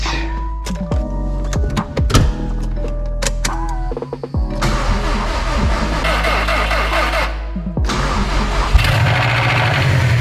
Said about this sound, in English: Car fired right up.